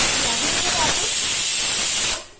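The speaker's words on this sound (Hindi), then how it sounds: "एक कुकर मेरा सीटी में थोड़ा सा प्रॉब्लम कर रहा है। आवाज़ सॉरी सुसु की" A pressure cooker whistle with a faulty whistle vents steam in a loud, steady hiss close by, then cuts off and fades at the end.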